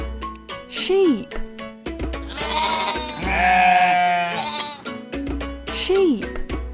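A sheep bleats loudly near the listener: two sharp, wavering cries bracket a longer, drawn-out bleat in the middle.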